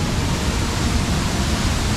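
A waterfall in Ubud, Bali roars as a loud, constant broadband rush of falling water, close and unbroken, with no voices.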